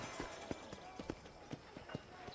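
Horse hooves clip-clop at a steady trotting rhythm in the Red Dead Redemption video game, soft and moderately close, repeating as regular muffled thuds over a faint ambient bed.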